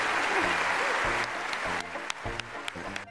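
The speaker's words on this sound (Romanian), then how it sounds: "ci au fost aplauzele lui Nicole Kidman" Nicole Kidman's applause at the Oscars ceremony, a dense wash of audience clapping with a few sharp separate claps standing out in the second half, while a voice talks over it.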